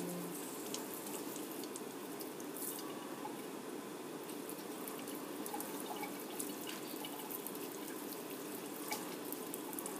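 A sink tap runs steadily with DI water as a lab microplate gets rinsed, giving a constant hiss with light splashing and dripping, fairly faint and with no voices.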